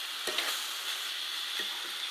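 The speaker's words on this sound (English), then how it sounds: "we're just going to let that water simmer and reduce down, and that cabbage will be cooked in a couple of minutes." Cabbage simmering in water in a pan gives a steady, even hiss throughout, with a couple of faint soft clicks.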